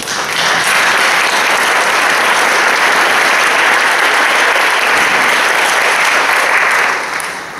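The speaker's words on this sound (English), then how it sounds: "So another hand of applause for these 3 individuals." Sustained, loud applause from a large gala audience in Washington DC honoring three awardees, a thick continuous roar of clapping that fades slightly at the very end.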